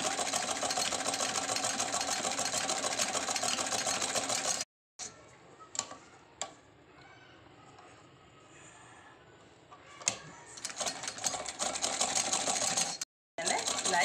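A sewing machine stitches a fabric cover for a tikuji, humming in a loud continuous run, then stopping abruptly; a quieter stretch with faint clicks and handling follows before the machine runs again.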